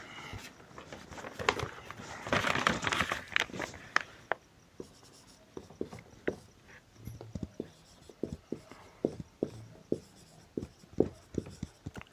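Pen writing on paper while copying out a Class 10 maths exam question, with scratchy strokes and taps in irregular bursts, close and fairly quiet, with no talking.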